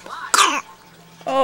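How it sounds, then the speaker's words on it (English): A baby gives a short cough, a sharp harsh burst at close range, followed moments later by a throat-clearing sound, with brief quiet between. "that nasty cough"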